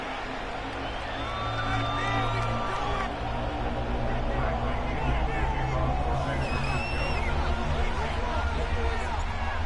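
Stadium crowd of about 70,000 football fans at Levi's Stadium in Santa Clara for a 49ers game, a steady loud roar of cheering and hubbub with scattered whoops and whistles throughout.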